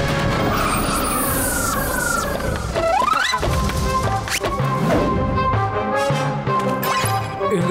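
Cartoon vehicle racing at speed, then skidding with screeching tires and a crash-like thump as it veers into a forest, loud and continuous with swooping effects and no voices.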